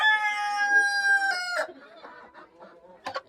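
A desi hen cackles and clucks close up in a loud, steady run for about a second and a half, followed by softer, scattered clucks and one short sharp call near the end.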